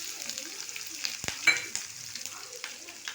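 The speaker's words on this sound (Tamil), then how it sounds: "இப்போ நம்ம வந்து பச்சை மிளகாய், இஞ்சி போட்டுக்கலாம்." Green chili and ginger sizzle softly as they are stirred in hot oil in a pan, a faint continuous frying hiss with light scraping.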